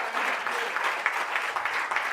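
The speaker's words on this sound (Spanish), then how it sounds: "Fuerte ese aplauso a Él." A church congregation claps together in sustained applause during a worship service, dense and even for a couple of seconds with no voices rising above it.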